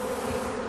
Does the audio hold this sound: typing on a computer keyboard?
no